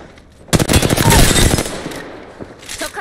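Rapid video game gunfire, a loud, fast burst of machine-gun shots lasting about a second, then tailing off with a fainter burst at the end.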